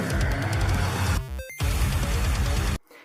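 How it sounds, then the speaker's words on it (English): A short chiptune passage, a song's introductory segment leading into the outro, plays loud with dense buzzy square-wave tones, a brief choppy break in the middle, then cuts off abruptly near the end. "It's the sound of this little chiptune introductory segment that brings us to the outro of the song."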